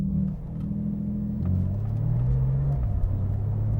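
A 700 HP Porsche 911 GT2 RS MR accelerating hard on the Nordschleife, its engine note climbing through gears as a loud, steady rumble heard from inside the car.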